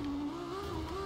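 In the video game Watch Dogs 2, a car engine gives an odd, steady tonal whine that rises slightly in pitch over a second, fairly quiet and with no voices.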